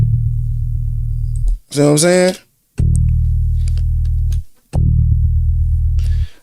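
A synthesized bass patch in Reason plays without Pulsar modulation, sustained low droning notes in two long held phrases, with a person briefly talking in between.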